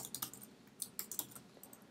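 Keys on a computer keyboard tap out a run of crisp, close clicks in an irregular rhythm while text is entered into a web messaging app, with no voices.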